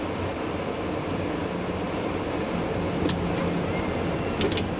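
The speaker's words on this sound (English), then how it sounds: "the tanker will advance throttle and accelerate away" A steady, broadband jet roar fills the cabin as a tanker aircraft pulls away after an in-flight refueling breakaway, constant and fairly loud, with a few faint clicks near the end.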